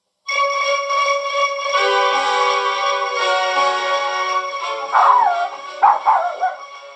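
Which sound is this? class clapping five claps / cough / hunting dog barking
hunting dog barking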